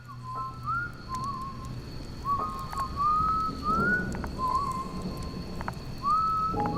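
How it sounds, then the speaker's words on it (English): A slow, eerie whistled tune drifts in short rising and sliding phrases with gaps between them, over a faint low background hum, used as a sound effect in a spoken horror story about a camp in the woods. "A slow, eerie tune carried through the trees surrounding his camp."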